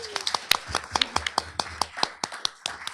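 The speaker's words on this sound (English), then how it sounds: "Round of applause for Gloria White-Hammond." Audience members at a talk on spirituality in serious illness clap for Gloria White-Hammond with a scattered run of crisp, distinct hand claps, close and irregular, rather than a full roar.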